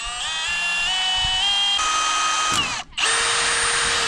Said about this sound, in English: These drill bits are trash. I broke 3 of them.